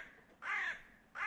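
A crow caws twice, loud and harsh, with one long cawing call followed by the start of another, no voices over it.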